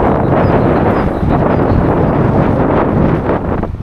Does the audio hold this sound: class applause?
no